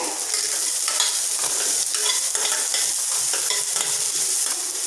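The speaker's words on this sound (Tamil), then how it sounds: "இது நல்லா ஒரு ரெண்டு நிமிஷம் நல்லா வதக்கி எடுத்துக்கலாங்க" Chopped onion, chilli, carrot and beans sauté in hot oil for vegetable idiyappam, a loud, steady sizzle with occasional stirring scrapes and no voices.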